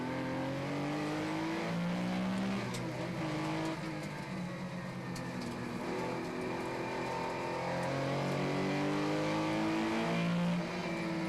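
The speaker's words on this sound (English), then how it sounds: "it's the number 35 Jean-Marc Lucot Lola that gets away when the lights go out" Historic race cars, including a Chevron B21 and an Alpine A240, accelerate away at the start of a 2008 endurance race, engines rising and overlapping in a dense, continuous roar heard from some distance.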